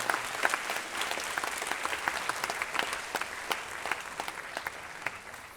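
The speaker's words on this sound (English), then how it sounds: "Please give those girls a massive clap." An audience at a school arts festival closing ceremony applauds performers with steady, dense clapping that is fairly distant and quiet and fades slightly toward the end.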